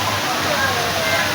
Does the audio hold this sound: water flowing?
yes